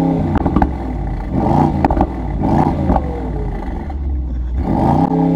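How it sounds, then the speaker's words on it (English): Mercedes-AMG SL55 bi-turbo V8 idling and being blipped after start-up, a deep close engine rumble with a few sharp revving swells and mechanical clatter, no talking. "let's go ahead and fire up the engine so you can hear how it sounds like real quick"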